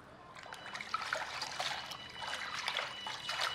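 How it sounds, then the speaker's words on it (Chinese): Cut fish is rinsed in a bowl of water, a close, soft continuous trickling and sloshing with small splashes throughout. "将切好的鱼肉放入盆中，加入清水清洗干净。"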